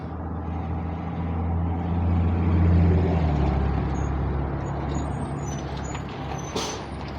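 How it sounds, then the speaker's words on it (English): City bus pulling in at a stop, a heavy diesel rumble swelling and easing with a loud, steady low drone, then a short hiss of air brakes near the end. "The bus is on its way."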